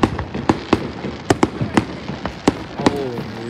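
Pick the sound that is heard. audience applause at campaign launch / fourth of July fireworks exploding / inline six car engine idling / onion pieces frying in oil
fourth of July fireworks exploding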